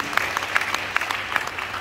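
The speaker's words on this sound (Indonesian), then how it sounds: "Tepuk tangan buat Tuhan kita" A church congregation claps in praise to God, a dense wash of applause with louder accents falling at a steady, regular beat as if clapping in time.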